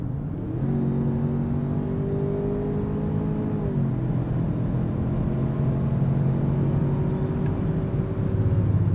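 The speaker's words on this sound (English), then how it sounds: "Let's go ahead and mash the throttle and see what happens." A Ford Bronco Sport Badlands accelerates hard at full throttle from highway speed, a steady loud engine drone and road rumble with a brief dip, like a shift, midway before climbing on.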